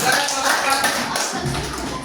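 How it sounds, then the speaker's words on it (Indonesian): A classroom audience applauds after a student group presentation in an Indonesian teacher-training session, with dense, steady clapping that fills the room throughout and a few voices mixed in. "Ya, tepuk tangan."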